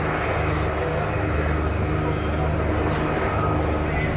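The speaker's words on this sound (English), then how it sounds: "It really is a gentle giant of an aircraft, the P-47, absolutely loved by all who fly it." A P-47D Thunderbolt fighter, 'Nellie B', performing a flying display at Abingdon, its piston engine giving a steady, loud, broadband roar that holds evenly throughout.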